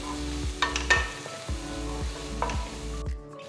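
A small finely chopped onion sautéing in coconut oil for squid masala, a soft close sizzle with a few spoon scrapes and light clinks against the pan, fairly quiet, trailing off near the end.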